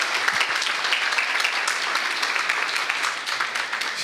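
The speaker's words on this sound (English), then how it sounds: "And maybe finally I'd like a round of warm applause for Germana over there." A crowd applauding steadily and loudly, dense clapping that holds at an even level throughout, with no voices over it.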